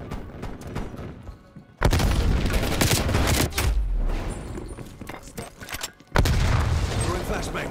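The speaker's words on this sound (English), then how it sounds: "Flashbang going off." Flashbang grenades detonating in Call of Duty: Black Ops Cold War during a 3v3 match: two sudden, loud blasts that each drop into a dense wash of gunfire and rumble, with voices in the match at times.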